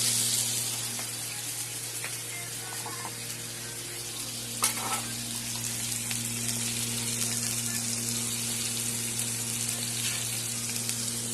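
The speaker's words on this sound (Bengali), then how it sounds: "আমার তেল গরম হয়ে গেছে। এখন কেটে রাখা বেগুন দিয়ে দেব।" Sliced eggplant frying in hot oil in a pan, giving a constant close sizzle with a brief clatter partway through and faint kitchen sounds underneath.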